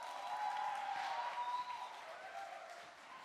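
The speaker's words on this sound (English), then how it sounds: "We're going to see who's going to clap the loudest" A church audience at an evening gathering claps in a sustained, fairly faint wash of applause that slowly thins out, with a few voices audible beneath it.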